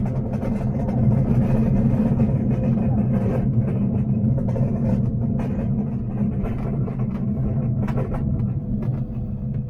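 Steady, droning engine of a small aircraft taxiing on the ground, a constant low rumble with a faint rhythmic throb throughout, close and moderately loud with no talk.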